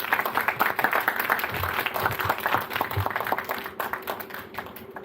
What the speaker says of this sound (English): Now let's welcome, with a big round of applause,